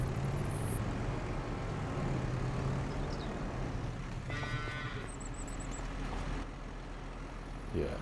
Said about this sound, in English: Yeah, the beef cattle, I've got plenty.